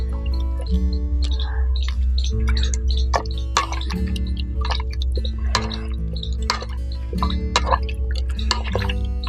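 Homemade ghee being washed in water by hand, with repeated wet drips, plops and squishing splashes in a steady rhythm over a low continuous hum.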